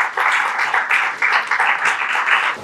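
An audience at a book launch ceremony claps loudly and continuously, a close, bright crowd applause swelling in small waves before cutting off at the end.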